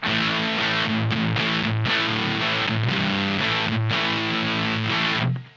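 Heavily fuzzy, distorted electric guitar through a Supro Drive amp plays sustained chords in a loud, thick wall of sound, ending with a brief fade.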